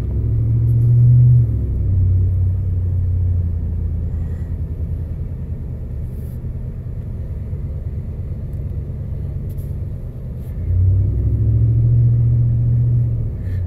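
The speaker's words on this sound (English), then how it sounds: "I hear the exhaust a little bit" 2019 Ram 1500 Classic pickup with muffler delete and y-pipe, driven slowly through a parking lot: a deep, steady exhaust rumble close by, swelling louder at the start and again near the end.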